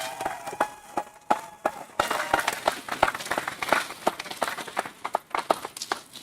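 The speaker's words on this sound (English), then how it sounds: "Round of applause for their achievement, please" Applause breaks out at a Salem Community College commencement ceremony, scattered claps at first that quickly swell into fuller, brisk clapping from a large audience, sustained to the end.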